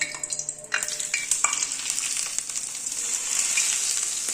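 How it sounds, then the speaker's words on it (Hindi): Hot desi ghee tadka poured over chicken haleem, bursting into a loud, close crackling sizzle that starts sharply and continues steadily with no talk. "ये डालने के बाद इसके ऊपर अब हम लगाएंगे देसी घी का तिड़का"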